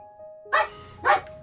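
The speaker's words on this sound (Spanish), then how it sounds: "Hacen ruido de los perros cuando abren la puerta." Dogs barking as a door opens, two sharp separate barks about half a second apart over a faint steady tone, fairly close.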